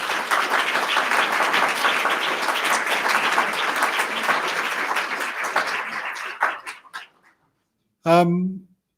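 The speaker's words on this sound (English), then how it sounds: "And I think it deserves a round of applause." A crowd claps steadily for several seconds, the applause fading out, followed after a brief pause by a short, sharp dog bark.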